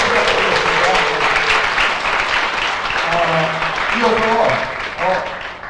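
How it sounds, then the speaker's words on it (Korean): An audience at a business presentation applauds loudly and continuously, with a host's voice talking over the clapping throughout. "감사의 박수 한번 부탁드리겠습니다"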